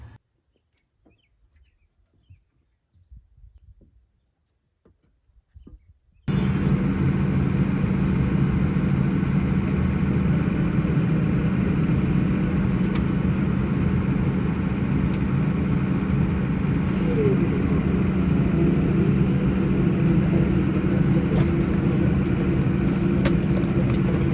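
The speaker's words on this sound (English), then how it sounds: "I'll insert a few videos of that so you guys can see this tractor in action." A New Holland T7 tractor engine starts up after a quiet stretch and runs at a loud, steady drone for the rest of the clip, heard up close, with faint birds calling beneath it.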